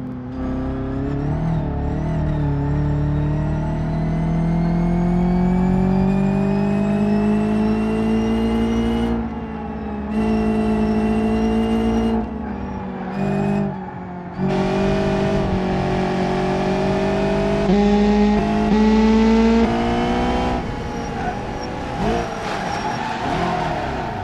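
A race car's engine in BeamNG, running with a broken radiator, drones loudly and continuously, its pitch rising and falling through gear changes and brief throttle lifts over a long stretch of racing.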